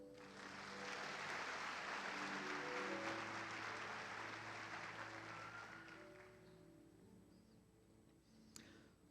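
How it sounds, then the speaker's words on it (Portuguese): A church congregation applauds during a sermon, broad clapping swelling loud for several seconds under sustained organ or keyboard chords, then thinning out and fading. "Dê um aplauso ao Senhor."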